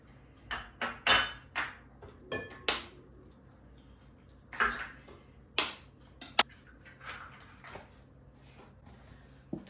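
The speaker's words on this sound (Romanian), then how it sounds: "Într-un bol batem ouă" Eggs beaten in a bowl for a baked salmon and broccoli dish, heard as a series of irregular clinking taps of utensil against the bowl, moderately close, with no speech.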